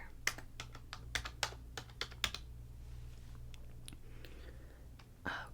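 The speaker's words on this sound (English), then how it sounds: "Let me type in your number." A number typed on a computer keyboard, a run of crisp close key taps at an uneven pace, then a few softer clicks and a pause.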